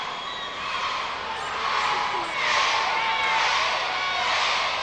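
A gymnastics arena crowd at a 1998 world professional championship chanting for a perfect 10, a broad, distant swell of many voices rising and falling in a steady rhythm, filling the hall.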